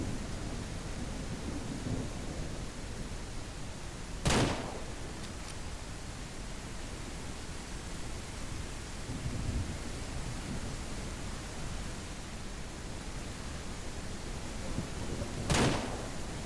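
Steady rain hiss fills a farming video game scene, broken by two sharp, loud thunder cracks several seconds apart and low rumbles in between, with no talking.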